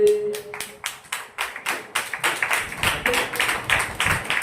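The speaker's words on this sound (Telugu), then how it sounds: "గట్టిగా చప్పట్లు కొట్టండి" A church congregation at Sunday worship claps in a fast, even rhythm, a dense run of sharp hand claps that starts after a brief held tone and stays loud throughout.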